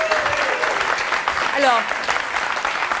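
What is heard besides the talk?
audience applauding Stéphanie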